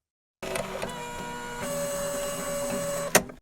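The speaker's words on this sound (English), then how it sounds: "The laser printer in the corner whirred to life." A laser printer in an office corner whirs to life, a steady mechanical hum with rolling feed noises building over a few seconds, ending in a sharp clattering burst as the sheet is pushed out; no voices.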